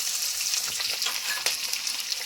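Chopped onion and slit green chillies frying in oil with whole cardamom, cloves, cinnamon and cumin, making a dense, continuous close sizzle with faint scraping of a spoon through the pan.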